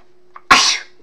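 A single sharp human sneeze, brief and close, bursting out after a faint intake of breath and fading within a fraction of a second.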